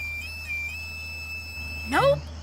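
A whistle played in the PAW Patrol cartoon holds a long, steady high tone with a slight wobble. It ends in a quick rising and falling chirp, then a brief sound after it.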